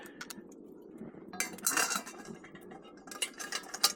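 Thermometer being fitted into the lid of a Billy pot, giving small metallic clinks and scraping rattles in a few short bursts, close and fairly quiet.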